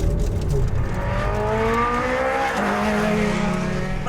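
A Ferrari 430 Scuderia driven on the Castle Combe circuit, its engine note rising steadily and then shifting pitch as it changes gear. The loud, continuous motor sound carries on through the whole stretch with no talk over it.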